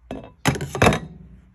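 The lid of a cooking pot being lifted, heard as a couple of close metallic clunks and rattles in quick succession, then a short fading ring.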